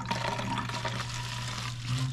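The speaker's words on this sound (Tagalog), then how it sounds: "So paglagyan ko muna ito ng tubig." Water gushes from a tap or spout into a container, a short, steady splashing fill heard up close without talk.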